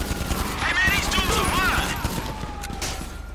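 Bursts of AP pistol fire from GTA V gameplay crackle in rapid volleys alongside game sounds and effects, with someone talking over much of the action.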